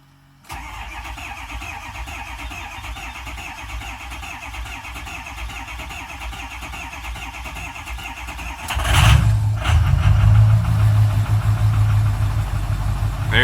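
A 2006 Ford 6.0 Powerstroke diesel cranks steadily for about eight seconds, then catches with a loud surge and settles into a rough, close idle.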